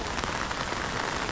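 Steady heavy rain pattering on surfaces during monsoon flooding, a dense continuous hiss nearby with no voices.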